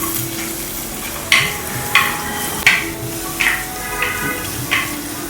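Crushed shallots and garlic sautéing in a pan make a steady sizzle, with about six distinct scraping stirs spaced roughly evenly, close up and with no talk.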